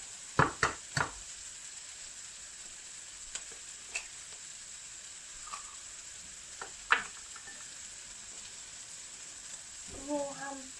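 Eggs for scrambled eggs frying in a pan with a continuous sizzle, while a utensil stirs them in scattered scraping taps and knocks, a few sharper clacks near the start; a voice speaks briefly at the end.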